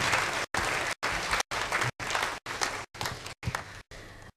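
Festival audience at a folk music contest applauding the contestants, a dense steady roar of many hands clapping, broken into short bursts by gaps, with no voices over it.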